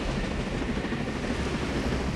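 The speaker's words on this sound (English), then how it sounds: "I stand by with the chopper." A helicopter in the tactical shooter Ghost Recon Breakpoint, a steady loud rotor and engine drone with constant rumbling texture throughout, no voices.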